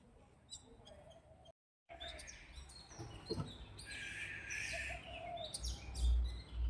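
Birds chirp in short, repeated tweets at a moderate distance around a home in Hong Kong. Background noise runs under the calls, and faint speech can be heard.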